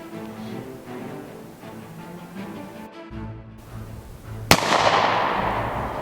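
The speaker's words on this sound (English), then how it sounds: "Shooting the Springfield XD 9mm with a 3-inch barrel" A single sharp 9mm pistol shot from a Springfield XD with a 3-inch barrel firing RIP ammunition, loud and close, ringing out over steady background noise partway through.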